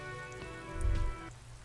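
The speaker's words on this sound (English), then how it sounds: "All around you, rain falls on the great city of Revachol." Rain falling on the great city of Revachol in Disco Elysium, a steady patter of raindrops under a sustained musical drone, with a brief louder low swell in the middle.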